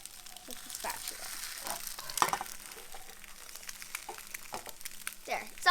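An egg sizzles in a frying pan while a spatula scrapes and nudges it, several sharp scraping hits over a steady crackling fry, close and moderately loud, with a voice speaking at times.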